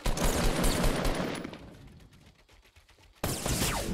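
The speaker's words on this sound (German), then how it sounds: "Er schießt mich, er schießt mich ab" Rapid bursts of gunfire from the video game Fortnite, dense and loud at first, thinning to a quieter stretch before a sharp loud burst returns at the end.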